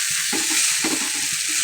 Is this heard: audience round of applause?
no